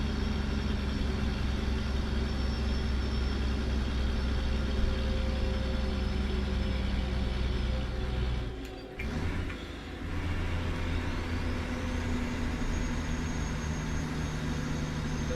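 A Mack F700 truck engine in a video game idles with a steady low rumble throughout, briefly dipping and catching near the middle before settling back into its drone.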